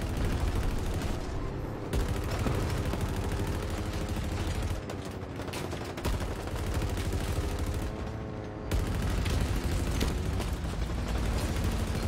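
Sustained rapid gunfire from Halo Infinite multiplayer, dense automatic bursts with heavy low-end booms running continuously and loudly throughout, no talking.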